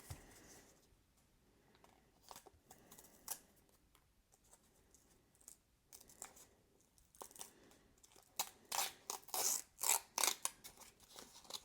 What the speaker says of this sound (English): I'm going to be quiet so you can hear the peel